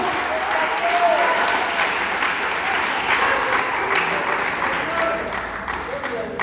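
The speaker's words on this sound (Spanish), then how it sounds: "Dele palmas al Señor." A church congregation claims sustained applause for several seconds, dense and loud, tapering slightly at the end.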